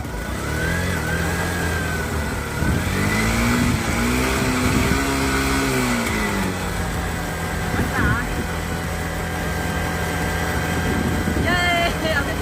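A motorbike engine drives a water pump, revving up and down in steady mid-pitched surges close by, running continuously with people talking over it.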